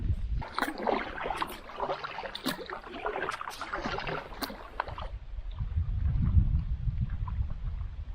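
Water splashes and drips in irregular bursts as a canoe paddle strokes and lifts, dumping water into the boat, followed by a low gurgling swirl near the microphone, with no talking.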